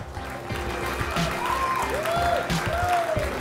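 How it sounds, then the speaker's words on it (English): Audience applause at a live Clash Royale tournament in Helsinki sounds as a sustained, moderately loud clapping over a hall hum, with a few faint whistles or cheers rising through it. "One more time, a round of applause for these two semi-finalists and,"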